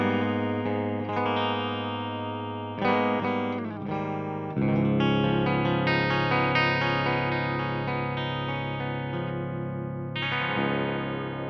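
Electric guitar played through a Monochrome triple effects pedal switched to bypass, giving a clean, dry tone with sustained chords and single notes ringing steadily, with a few brief pauses between phrases.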